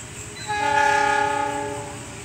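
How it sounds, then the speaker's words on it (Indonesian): An empty cement freight train entering Cibinong station sounds a loud, sustained horn lasting over a second, with rumbling wheels underneath. "Kereta api angkutan semen kosongan persiapan masuk jalur 2 livery beduk."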